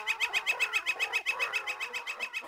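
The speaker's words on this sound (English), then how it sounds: "Birds of all sizes, big and small, flew onto the ship." Cartoon birds chirp in a rapid, steady series of bright, repeated tweets, loud and close, with no talking, as a flock of birds of all sizes flies onto a ship.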